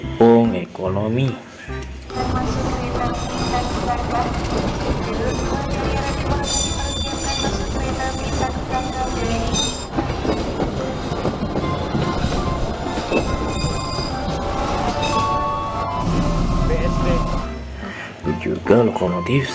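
A passing train hauling economy-class carriages rumbles steadily and loudly nearby for most of the stretch, with metallic tonal ringing over the continuous wheel and carriage noise before it fades out.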